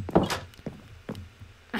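In the Minecraft video game, a door opens and shuts in a quick series of wooden thunks, four or five sharp clacks spaced unevenly, close and fairly loud with no talk over them.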